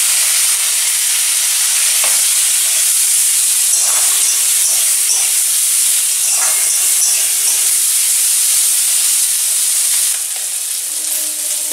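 Small mourola fish and lentil dumplings (bori) drop into hot oil with browned onion and garlic, setting off a loud, steady, close hiss and sizzle with faint stirring clatter.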